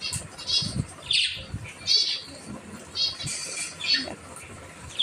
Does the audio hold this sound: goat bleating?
no